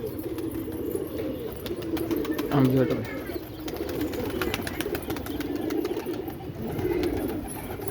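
Raised pigeons at a pigeon-flying tournament coo in low, repeated throaty murmurs close by, while people talk over them throughout.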